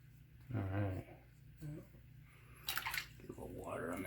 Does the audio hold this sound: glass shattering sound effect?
no